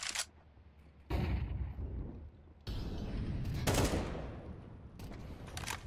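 Bursts of gunfire from a Counter-Strike match, loud clustered volleys of rapid shots arriving in several separate flurries with brief quieter gaps between them.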